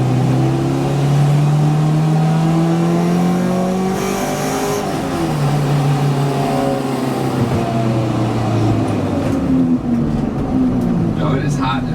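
A car engine revs and shifts gears without the clutch, its pitch climbing, dropping and climbing again through several loud sweeps close by while someone talks over it.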